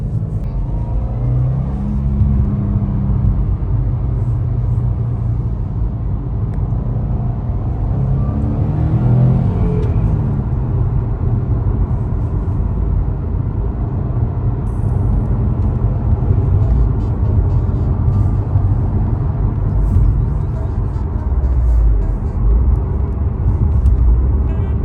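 A Subaru WRX STI driven on the road, its engine a steady low rumble with road and tyre noise inside the cabin, engine note rising briefly as it pulls, continuous and fairly loud with no talk.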